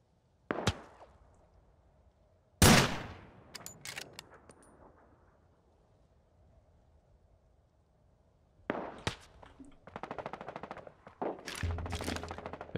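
Gunfire in the battle royale game Ring of Elysium, sharp single shots and short rapid bursts separated by quiet gaps, loud and close, with a longer run of shots near the end.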